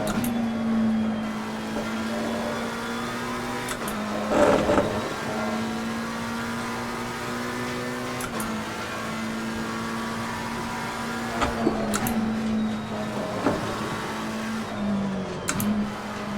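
McLaren 720S race car in Assetto Corsa Competizione drones steadily at high revs, with sharp shifts and brief revving spikes around gear changes, loud and continuous throughout.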